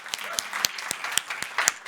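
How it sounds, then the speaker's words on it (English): A small audience at a tech talk gives the team a brief round of applause, light scattered claps at moderate distance, fairly quiet and thin. "a little round of applause as well for them"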